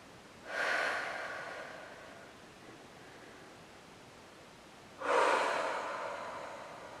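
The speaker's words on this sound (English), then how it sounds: "take a couple nice long deep breaths to slow the breathing" Two slow, deep breaths during a Pilates cool-down, each a soft airy rush lasting about a second and a half. They are close and steady with a quiet pause between them, and nobody speaks.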